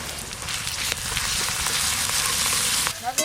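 Chopped onion and ginger paste fry in oil in a kadai, making a dense, even sizzle close up, with a brief clatter near the end and no talk.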